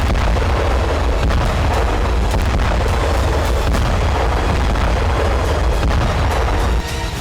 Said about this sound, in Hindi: धमाका किसी मिसाइल से भी कई गुना ज्यादा हो रहा है